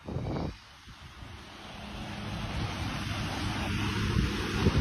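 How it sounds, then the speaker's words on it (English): Ocean surf and wind roar on a shoreline, a steady broadband wash that builds gradually after a brief louder gust at the start, with no voices. "Look at it, mate. It's the ocean."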